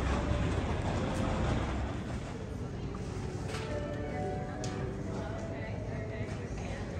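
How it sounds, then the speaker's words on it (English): Busy indoor ambience at Union Station: a broad, steady wash of crowd murmur, footsteps and distant rail rumble echoing through a large hall. "So I'm walking into Union Station right now."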